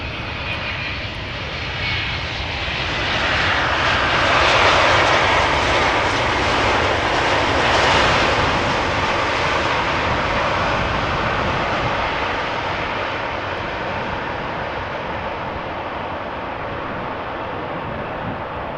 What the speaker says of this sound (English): So this is KLM flight 588. It is a 777-200 ER arriving from Lagos.